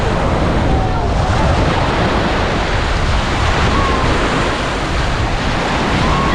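Sea waves washing onto a beach at Empuriabrava on the Costa Brava, a loud continuous surf roar with wind buffeting the microphone.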